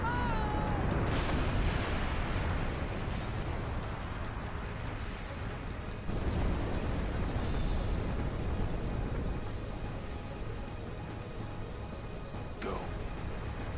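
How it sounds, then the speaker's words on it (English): A building blows up in the video game Final Fantasy X, with rumbling blasts at intervals over a continuous roar of noise, and a voice talking throughout. "And we explode a building."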